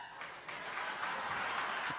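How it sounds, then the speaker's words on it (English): Thin, scattered applause from a lecture audience, a brief smattering of claps heard at moderate distance without any voices. "Weak applause."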